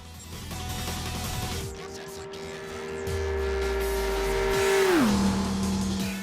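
A racing car engine in Gran Turismo 6, an LMP prototype, drones steadily at high revs, swells, then drops sharply in pitch near the end, with tyre noise and game sounds mixed in.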